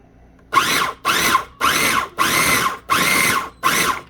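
A motorized food grinder chops onions and cilantro for sofrito, running in six loud, even pulses of whirring blades, each separated by brief silence.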